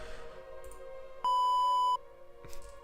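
A short synthetic beep for a CHIP-8 emulator: one steady pure tone of under a second, clear over a quiet background with faint clicks around it.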